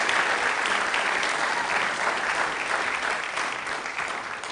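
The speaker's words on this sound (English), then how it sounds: "Let's give these fine young gentlemen a big round of applause." A crowd at a school athletics awards ceremony claps for a group of young athletes, a dense, steady round of applause that eases slightly toward the end.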